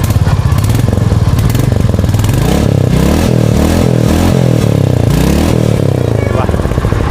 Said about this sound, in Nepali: क्या दमदार इन्जिन रहेको छ, सोलिड साउन्ड रहेको छ